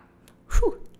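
A single short sneeze indoors during a French knitting podcast, a brief close burst with a breathy catch over a quiet room.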